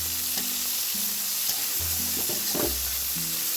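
Pieces of prawn and fish sizzle steadily in hot oil in a pan, a close, continuous crackle with occasional stirring and low hum underneath.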